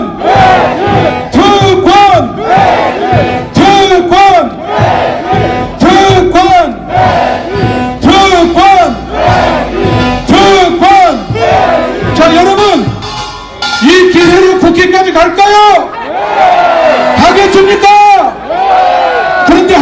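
A large rally crowd calling to abolish lawmakers' privileges chants a short slogan in unison, loud and close, with rhythmic repeated bursts separated by brief gaps, led by an amplified voice.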